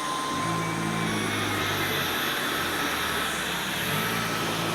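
A vacuum cleaner runs steadily on high suction across carpet in a flat, giving a loud, constant whirring drone with no breaks.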